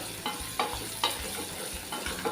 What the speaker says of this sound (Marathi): त्यानंतर ह्यामध्ये घालते मी टॅमॅटो ते सुद्धा मिक्स करून घेऊया